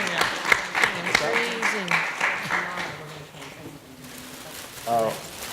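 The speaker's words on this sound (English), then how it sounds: "why don't we give them a round of applause now" An audience gives a round of applause to a job panel, steady clapping that fades toward the end while people speak over it.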